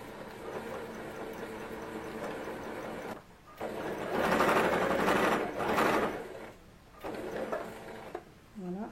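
A sewing machine runs in steady stretches, stitching a seam a few millimetres from an earlier line on a ruffled dress, with brief pauses between bursts and a louder middle run.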